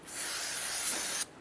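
Solvent sprayed from an aerosol can onto a new, oil-coated steel brake rotor for a 2005-2010 Chrysler 300, one continuous close hiss lasting just over a second before cutting off abruptly.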